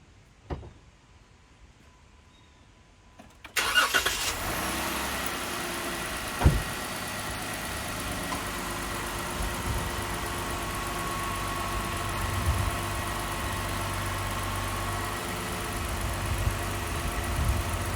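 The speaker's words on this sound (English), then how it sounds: "go start the truck" A Jeep JK fitted with an inline thermostat kit cranks and fires after a few quiet seconds, then settles into a steady, even idle with one brief sharp knock partway through.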